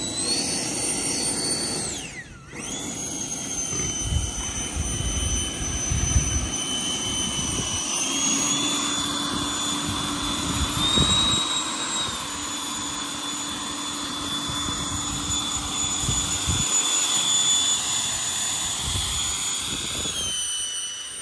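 A steady, loud jet-like roar with a high, sliding whistle on top, rising and falling in pitch as the 105mm electric ducted fan of an RC L-39 Albatros model jet spools, no talking.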